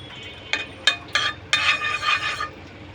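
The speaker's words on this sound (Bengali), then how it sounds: "এখন আমি এর মধ্যে এই যে আলুটা লবণ আর একটু জর্দা মিক্সড করে ভেজে নিচ্ছি" Potatoes stirred in melted ghee with salt in a frying pan, a few sharp scrapes and clinks of a utensil against the pan over a steady soft sizzle, close by with no talk.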